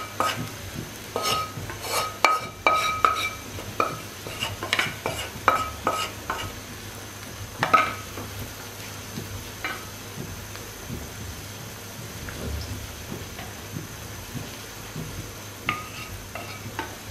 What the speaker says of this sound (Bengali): এবার এই ভাঙ্গা মাছগুলো আমি কচুর সাথে এভাবে মিশিয়ে দেবো